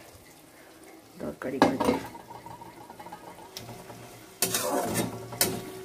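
Tomatoes tipped into a cooking pot for curry, a clattering metal lid and pan sounds followed by a wet sizzling rush, with someone talking.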